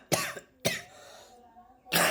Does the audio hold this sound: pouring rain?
no